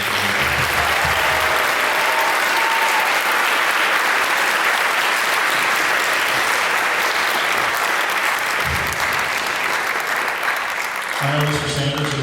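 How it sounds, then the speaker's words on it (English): Audience applause for children at the close of a band camp concert, a dense, steady wash of clapping that holds loud and continuous throughout. "Let's give the kids a round of applause."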